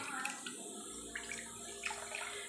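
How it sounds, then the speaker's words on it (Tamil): Hot water pours over amla being squeezed for juice, a soft, steady stream that stays low and continuous throughout. "சுடுதண்ணி ஊற்றி புழிஞ்சுக்கலாம்."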